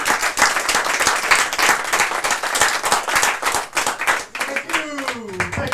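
A comedy show audience claps and applauds a comedian as he is introduced, a loud, dense burst of clapping that fades out as a voice begins speaking at the end.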